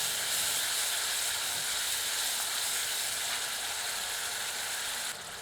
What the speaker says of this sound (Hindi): तत्पश्चात इमली का पेस्ट सम्मिलित करते हैं। मिलाकर 1 मिनट भूनते हैं।